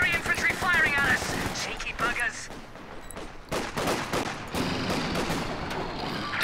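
Small-arms and machine-gun fire from Volksgrenadiers aimed at a Universal Carrier in the Company of Heroes 2 strategy game, rattling bursts and scattered shots in a busy battle mix, with commentary talk running over it.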